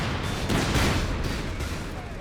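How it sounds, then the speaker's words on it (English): Panzerschreck anti-tank rockets fired by Grenadiers at a recovery vehicle during a tank battle in Company of Heroes 3, a dense roar of loud blasts and booms layered over continuous battle noise. "Panzerschreck from the Grenadiers there, hitting that recovery vehicle"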